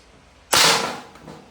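A Crosman Trail NP Mark II break-barrel air pistol firing a pellet, a single sharp loud crack that decays over about half a second, close by and alone.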